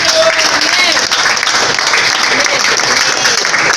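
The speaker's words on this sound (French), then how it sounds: "Applaudissez." Dense, sustained applause from a church congregation at a faith-healing service, loud and even throughout without a break.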